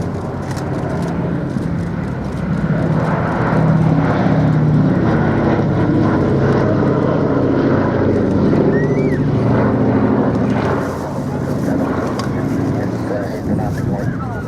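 Boeing B-17 Flying Fortress bomber at the Duxford air show, a loud steady drone of piston propeller engines that swells and holds for the whole stretch under open-air crowd noise.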